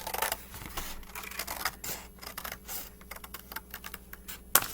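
Scissors trim a paper egg-shaped pattern in a series of small, crisp snips and rustles, fairly close and quiet, with a sharper snip near the end.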